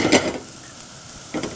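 Onions browning in a saucepan on the stove, with brief bursts of stirring and sizzling at the start and end and a quieter, steady fry in between; no one speaks.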